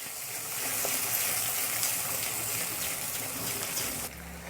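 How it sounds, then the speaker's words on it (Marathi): Yogurt being stirred into frying masala in a pan for an egg dish, a steady close sizzle with faint scraping of stirring throughout, easing off at the very end. "आता त्याच्यामध्ये ना दोन ते अडीच चमचे दही आपल्याला टाकायचं आहे मिक्स करून घेऊ व्यवस्थित"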